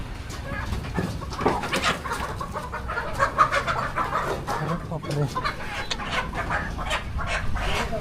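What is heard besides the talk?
native rooster clucking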